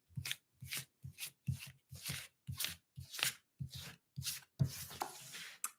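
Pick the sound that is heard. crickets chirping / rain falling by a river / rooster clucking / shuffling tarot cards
shuffling tarot cards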